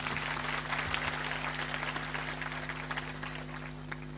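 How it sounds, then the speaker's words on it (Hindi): Audience at a religious discourse gathering clapping together, a steady dense patter of applause sustained from start to finish at moderate distance, with no speech over it. "ताली बजाकर सुनिए।"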